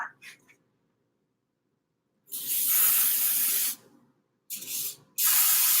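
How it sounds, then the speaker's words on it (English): Cooking oil spray bursts hiss out close by onto a pan: a short puff, then a long spray, a pause, and two more blasts in quick succession. "I'm going to really spray it good"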